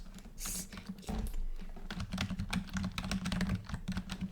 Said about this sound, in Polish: w klawiaturze trzeba strzałkami normalnie ten klikać